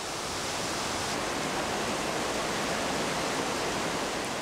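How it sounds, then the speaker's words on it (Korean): A constantly flowing stream in a tropical rainforest gives a steady, even rushing hiss of water with no breaks or voices. "물이 항상 흐르는 촉촉한 개울가에는 다양한 도깨구리가 살아갑니다."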